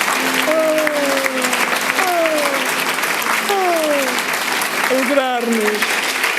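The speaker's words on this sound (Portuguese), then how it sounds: "Dá um forte aplauso ao Senhor" A church congregation claps together in sustained, strong applause for the Lord, a dense steady patter with sung voices rising over it.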